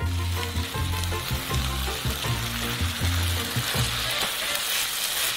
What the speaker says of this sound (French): Et on mélange bien le tout.